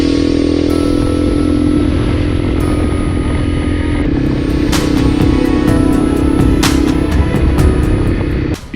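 A dual sport motorcycle cruising along a highway in the Philippines: a loud, continuous engine drone with heavy wind rush, heard close from the rider's position, with a few sharp clicks or knocks near the end.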